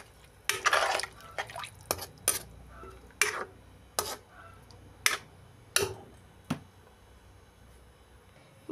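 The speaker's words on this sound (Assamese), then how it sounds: "এতিয়া অকণমান গৰম পানী দি দিছোঁ কুহুমীয়া গৰম পানী" Warm water poured into a pot of fish curry, then stirred: a series of sharp scraping and clinking strokes against the pot, spaced about a second apart, fairly close, with no voices.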